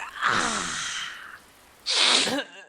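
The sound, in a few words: sneeze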